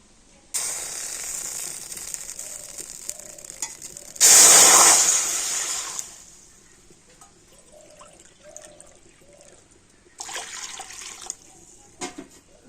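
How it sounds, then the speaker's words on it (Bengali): Two bowlfuls of water poured into a wok, with a loud splashing pour lasting about two seconds after some quiet kitchen handling, then softer clinks and a brief second splash near the end. "এই বাটি মেপে আমি 2 বাটি জল কড়াতে দিয়ে দেব"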